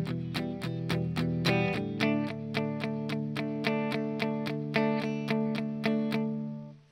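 Electric guitar strumming chords in a steady eighth-note rhythm, bright evenly spaced strokes ringing close and clear, alone without any talking.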